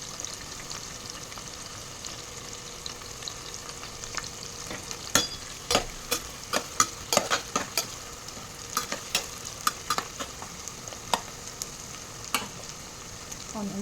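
Onions for a mutton curry sizzle steadily in a pan, with a continuous soft frying hiss broken by a run of sharp clicks and scrapes as a spoon stirs them.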